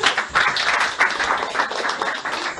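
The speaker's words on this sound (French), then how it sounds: "Applaudissez pour ses frères." A church congregation applauds, a steady broad wash of clapping with loud surges, and voices mixing faintly underneath.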